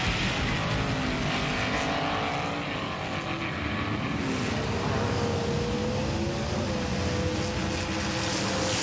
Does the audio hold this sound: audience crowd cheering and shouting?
no